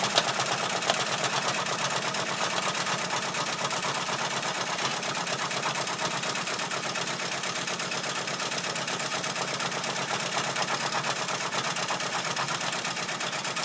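An embroidery machine stitches a hat, its steady rapid mechanical whir and needle chatter running continuously and fairly loud without pause.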